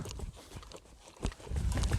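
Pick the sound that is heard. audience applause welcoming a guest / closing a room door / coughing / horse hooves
horse hooves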